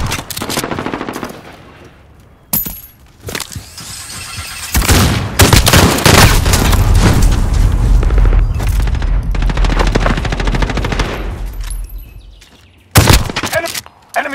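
Turret gunfire in Call of Duty: Modern Warfare, loud rapid machine-gun bursts with booming impacts, broken by short quiet gaps and ending in a final sharp burst.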